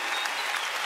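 A brief, dense burst of applause from a concert audience, heard on its own at moderate loudness.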